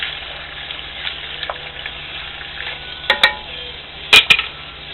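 Pico de gallo, a mildly spicy salsa, being mixed into a pot of chuck wagon–style chili: a steady soft sizzle with scattered scraping, then a few sharp utensil clinks against the pot near the end.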